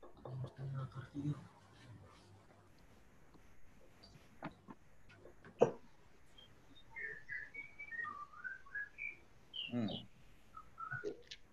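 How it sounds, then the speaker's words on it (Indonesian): A magpie-robin (burung murai) sings a run of short whistled phrases and chirps at moderate distance, mixed with background noise and occasional thumps while people talk nearby. "Burung murai itu ya, bagus burungnya."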